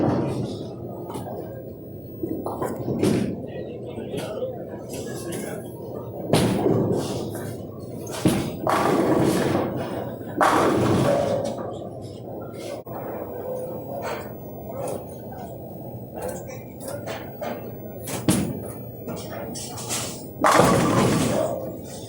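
Bowling balls from the Motiv Primal line roll down the lane and crash into the pins, giving a series of loud thuds and clattering smashes spread across the span, with rolling rumble between impacts.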